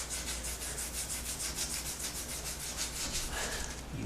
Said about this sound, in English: Now this emery cloth is designed to sand copper tubing before you solder it. I'm going to use it just for here.